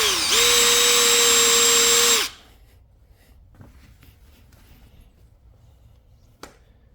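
A cordless drill with a polishing attachment buffs scratches out of car paint, including metallic paint, giving a loud, steady, high whine for about two seconds before cutting off to near silence with a few faint taps.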